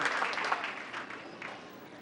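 Clapping from an audience at a town council meeting honoring Group 1, a moderate, steady round of applause that slowly thins out.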